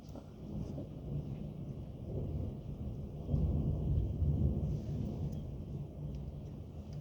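A thunderstorm with calm, steady rain, low rumbling thunder swelling in the middle and rolling on beneath the soft hiss of rainfall, moderately distant.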